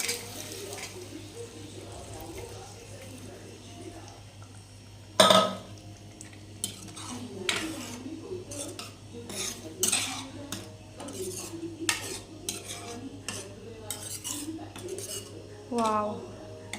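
Spoon scrapes and clinks against a pot as cooked black peas are stirred into a simmering curry, with intermittent metallic taps and soft gloopy stirring at low volume.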